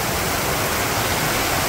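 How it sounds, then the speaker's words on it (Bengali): Heavy rain pours down in a village in a dense, unbroken hiss that is close and loud from start to finish, with no voices. "আর যে বৃষ্টি নামছে বাবার বৃষ্টি রে"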